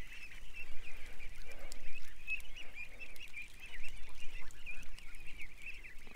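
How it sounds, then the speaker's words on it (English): A flock of ducks quack and honk continuously at a moderate distance, their raucous calls overlapping in a busy, excited chorus. "The ducks are losing it."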